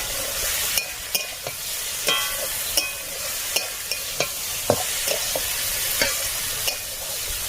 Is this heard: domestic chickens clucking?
no